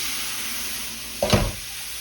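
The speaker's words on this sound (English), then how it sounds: "We're gonna pour this beef stock in there." Beef stock splashes into a hot pan of flour for oxtail gravy, a steady sizzle that flares into a brief, louder hissing burst midway, then settles back to a low fry.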